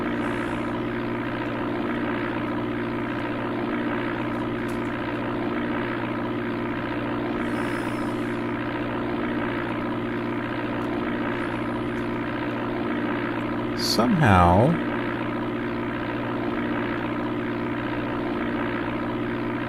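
Propeller plane engine in the Amiga game Flight Simulator II, a constant buzzing drone of harmonics running steadily throughout, briefly overlaid by a warbling tone and a single spoken word near the middle.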